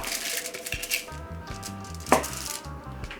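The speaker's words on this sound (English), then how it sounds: "I'm gonna go in and I'm gonna cut the pork." A knife slices through Jamaican jerk pork cooked in the oven, giving several close chopping strokes with one sharp, loud cut partway through, over a faint tonal background.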